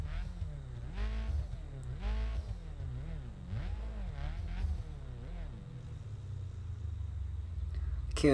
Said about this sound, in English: let's just listen to the engine.